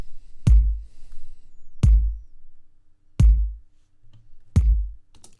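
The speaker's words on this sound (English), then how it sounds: "so I pulled out the Slate's trigger plugin." A kick drum in a dancehall mix, reinforced with Slate Trigger samples, thumps four times at an even, slow pace, each hit a punchy deep boom with a click attack and a short decaying low tail.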